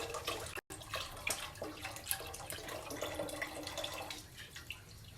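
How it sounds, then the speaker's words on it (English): Chicken broth poured from a blender into a cooking pot for mole, a soft continuous trickle and splashing of liquid, faint and close, with no talking. "And I will be pouring the rest of my broth."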